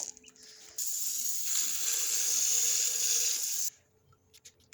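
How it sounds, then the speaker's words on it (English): Water runs steadily from a tap or hose to fill a drinking container for backyard chickens, a loud, even hissing flow of about three seconds that starts and stops abruptly, with quiet rustling before and after. "we're about to fill up the water, because I forgot to earlier"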